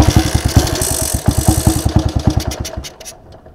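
A motorcycle-like engine runs close and loud with a rapid, uneven chugging beat, then stumbles and dies away within a few seconds as it cuts out when the throttle is touched.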